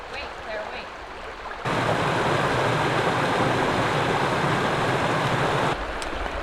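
A forest stream flowing at a rocky creek crossing on a Maryland trail, a steady broadband rush of water that swells louder in the middle stretch before easing back, with no talking over it.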